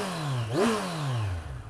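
A Kawasaki Z1000 motorcycle engine gives a single quick rev, its rumble and intake roar rising sharply in pitch, then settling back to idle, heard up close.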